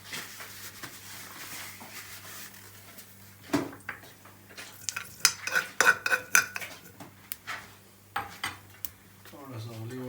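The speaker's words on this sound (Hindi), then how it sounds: "इसको थोड़ा सा स्टेयर करेंगे, इस तरह हिलाएंगे।" A spoon stirs cumin seeds in a pan for masoor dal tadka, clinking and scraping against the metal in a quick, irregular series of close taps, with a brief voice near the end.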